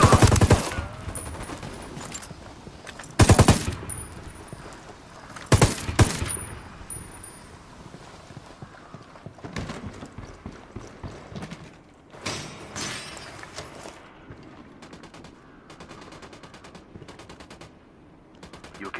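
Gunfire erupts near a church in a Ghost Recon Wildlands firefight. Sharp, loud individual shots and short bursts ring out irregularly, with the heaviest cracks early on and scattered quieter volleys following.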